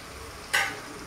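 Ginger paste hitting hot spiced oil in a pan while cooking a Bengali cauliflower, egg and potato curry gives a single short burst of sizzling that flares up and fades over about half a second.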